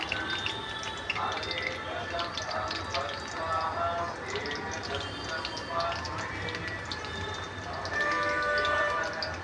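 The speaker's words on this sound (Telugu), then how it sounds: "ఇప్పుడు ఇంకా నేను వేసుకుంటున్నాను. ఇలా అన్నీ బాండీలో వేసుకొని వేయించుకోవాలి." Spinach pakodi fry in hot oil in a kadai with a continuous sizzle, bubbling and crackling with small pops throughout at moderate closeness, and a low hum underneath.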